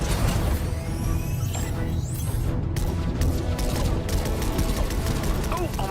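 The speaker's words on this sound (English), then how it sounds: "I was hoping we'd have an excuse to try out the battle bus's laser cannons" Rapid bursts of sci-fi laser cannon fire from the Fortnite battle bus crackle over a dense rumbling battle din, with sharp zaps and crashes layered throughout.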